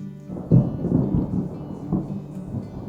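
Thunder rumbles in deep rolling waves, with a sharper crack near the start and another swell a moment later, loud and low with a faint rain-like hiss behind it.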